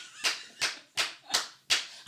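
Six slow, evenly spaced hand claps, crisp and close, from a single person rather than a crowd.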